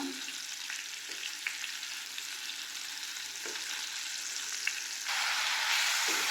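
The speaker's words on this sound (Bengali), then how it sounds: "এগুলো একটু ভেজে নেব" Ingredients frying in a pan give a steady hiss of sizzling oil with a few light stirring scrapes. The sizzle grows louder near the end, with no talking.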